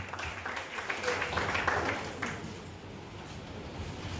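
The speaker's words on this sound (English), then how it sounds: "Round of applause." A crowd at an award ceremony applauds, with scattered clapping mixed with voices and room chatter, swelling slightly in the middle before easing off.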